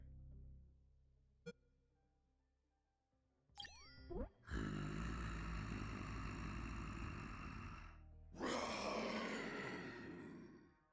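A T-Rex in the video game Unmetal lets out two loud, rough roaring grunts after a brief boing-like effect and a sharp ding, with no talking.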